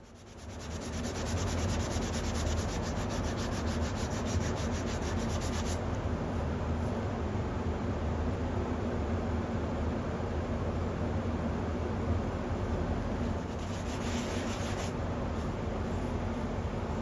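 Steady, continuous abrasive rubbing of sandpaper over drywall compound on yellow foam, close and fairly loud, with no pauses or talk.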